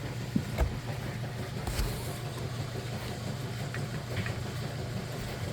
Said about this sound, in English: I know the washer's making a lot of noise in the background